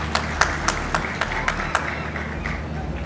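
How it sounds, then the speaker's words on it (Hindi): A ceremony audience in Lahore claps in scattered, uneven bursts over a steady crowd murmur and low hum, the claps moderately loud and fairly close. "हाँ ताली बजा के दिखाओ,"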